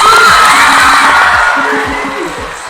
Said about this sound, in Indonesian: Tepuk tangan lu buat Carlson